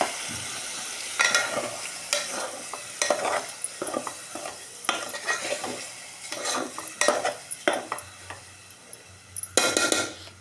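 Green chillies and a tomato-onion paste fry and sizzle in a pan while a spoon stirs and scrapes repeatedly, with clinking metal bursts rising over a steady hiss.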